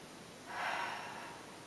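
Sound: deep breath

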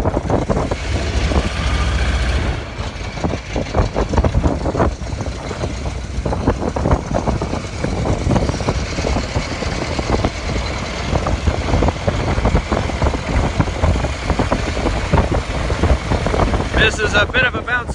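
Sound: Virginia & Truckee motor car 24 replica bouncy ride

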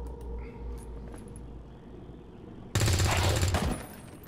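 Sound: gunshot in XCOM 2 video game

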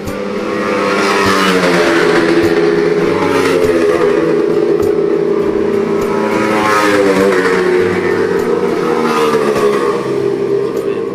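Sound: motorcycles revving and racing

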